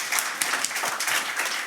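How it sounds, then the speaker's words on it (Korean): Audience applause at a panel discussion event for a Korean rivers day gathering, dense continuous clapping from a crowd, fairly close and even throughout the short burst. "김종열 선생님께 박수 한번 격려해 주세요"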